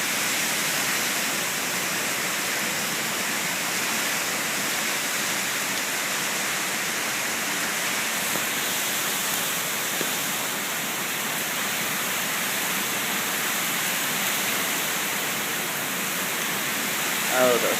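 Storm surf from Tropical Storm Isaac crashes against the coast at West Palm Beach Shores, Florida, a steady roaring wash of breaking waves mixed with wind, unbroken and even throughout.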